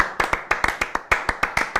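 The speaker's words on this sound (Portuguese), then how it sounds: "Bateu uma salva de palma aqui pro profissional." A short round of hand clapping, about a dozen sharp claps in a loose, slightly uneven rhythm, close and fairly loud, no talking.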